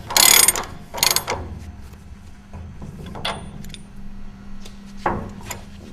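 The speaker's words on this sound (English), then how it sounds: "We'll go ahead and tighten the shaft bolts back up" Ratchet wrench tightening shaft bolts on a 200mm segmented rotor cassette hub: loud bursts of rapid clicking close up, in separate strokes with pauses and softer mechanical ticks between.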